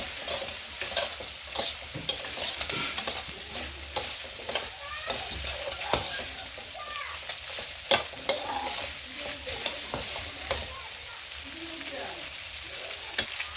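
Pasta fries in a pan at home with a steady close sizzle, while a utensil scrapes and clatters through it in repeated stirring strokes.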